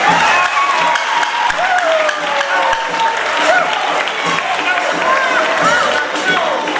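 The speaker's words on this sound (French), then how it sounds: "Sous l'applaudissement." Applause at a civil wedding ceremony in Brazzaville, right after the bride's vows, with steady clapping filling the room and tonal chatter and calls from the guests mixed in throughout.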